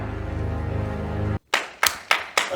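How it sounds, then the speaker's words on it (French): A few sharp claps ring out after a sustained sung tone cuts off, four separate hand claps spaced apart, fairly close and distinct. "On applaudit Lanstan, s'il vous plaît."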